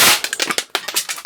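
A rapid burst of sharp cracks from a Zoraki 914 9mm blank pistol fired on full auto, about a dozen close reports in just over a second.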